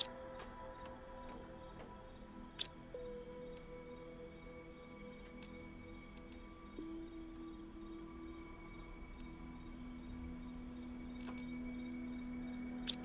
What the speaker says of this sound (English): Is that crickets I hear chirping